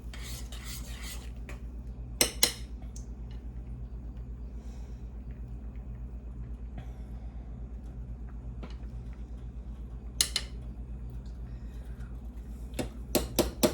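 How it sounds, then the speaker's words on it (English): A spoon scrapes around a pot of cooking rice in a few short bursts of stirring, separated by quiet stretches over a low, steady stove hum. "I'm gonna give the rice a stir."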